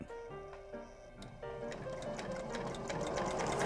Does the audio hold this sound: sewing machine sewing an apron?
yes